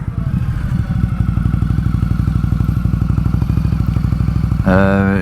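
Indian Scout Bobber cruiser motorcycle engine running steadily up close, a loud throbbing low rumble with rapid even pulses, then a brief shift to a higher, smoother tone near the end.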